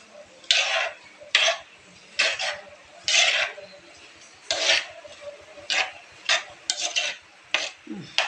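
Beetroot pieces, cut in chunks rather than grated, are stirred in a cooking pan, giving a series of about a dozen short scraping, rasping strokes in irregular rhythm, close and fairly loud, with no talk.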